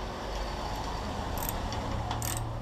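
Ratchet with a 10mm deep socket tightening an ebike chain tensioner: soft, close mechanical clicking over a steady background hiss, with a few slightly sharper ratchet ticks near the end.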